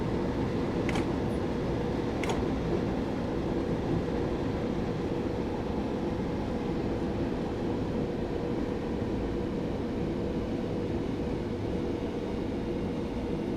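A passenger train in Train Simulator 2016 rolls on the London Victoria to Brighton line toward Burgess Hill Station. It makes a continuous, even rumble with a hiss on top, and two brief high squeals early on.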